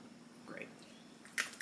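A fresh lime squeezed by hand into a bowl of homemade guacamole gives faint, brief wet squishes and small drips, with a couple of soft juicy bursts against a quiet room.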